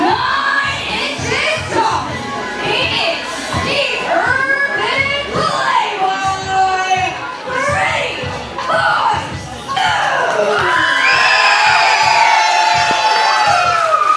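A pro wrestling crowd at an Emerge Pro Wrestling match cheers for Pretty Boy Smooth: a dense, steady roar of many voices with shouts and whoops rising over it, growing louder and fuller toward the end.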